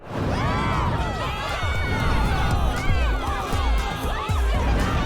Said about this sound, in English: why are the kids cheering?